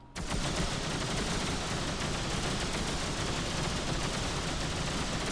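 A ship in X3: Terran Conflict firing all its weapons at once, a dense, loud, continuous barrage of rapid shots starting abruptly and holding steady without letup.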